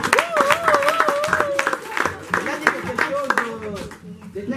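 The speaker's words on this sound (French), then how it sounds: "Applaudissez pour elle." An audience at a community gathering applauds with scattered, sharp claps and cheering, while voices ring out loudly over the clapping throughout.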